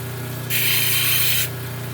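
A power tool grinds a gnarly gray shell piece being worked toward a pendant, a steady motor whine with a harsh, bright grinding burst for about a second in the middle, close up and without talk.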